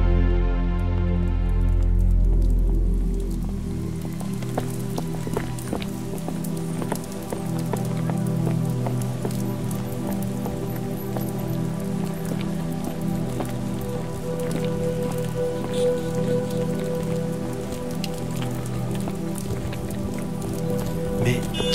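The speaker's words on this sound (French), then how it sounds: "La pluie." Rain falling on a Paris street on an autumn evening, a steady continuous patter with scattered drops, close and moderately loud, heard alone under a music bed.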